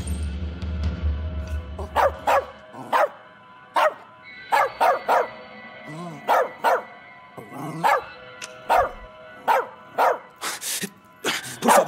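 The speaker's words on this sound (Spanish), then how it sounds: "Es un perro." A dog in the video game As Dusk Falls barks repeatedly in sharp, loud bursts at irregular intervals, some yips among them, after a brief low rumble at the start.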